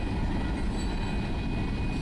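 A freight train passes on the Union Pacific Evanston Subdivision, a steady, close rumble of rolling cars with a faint high whine, with no voices.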